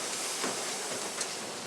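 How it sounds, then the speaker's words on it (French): Funicular railway climbing a mountainside, heard as a steady, loud rumbling hiss of running rail vehicle with faint clicking, continuous throughout with no talking. "Ici, le métro, c'est le funiculaire."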